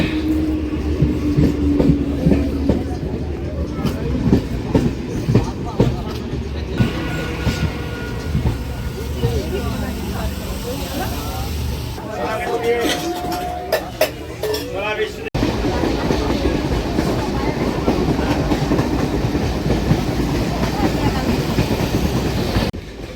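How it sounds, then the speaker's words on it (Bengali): Local train pulling into a station platform, with rumbling wheels, clattering rail joints and squealing brakes building over about twenty seconds, loud and close, with people talking nearby. "বারোটা আঠেরো ট্রেন বারোটা কুড়িটা ঢুকে গেল"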